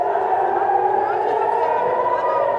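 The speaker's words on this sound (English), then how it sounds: "with occasional pauses for air raid sirens." Air raid siren sounding in Israel during wartime, a steady wailing tone held continuously throughout, fairly loud and filling the scene, with faint crowd and voice noise underneath.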